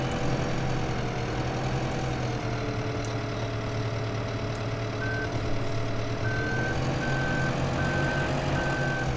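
A tractor backs up with a trailer in Farming Simulator 2015, its engine idling with a steady low drone under a regular series of reversing beeps that starts midway and keeps repeating; no talk.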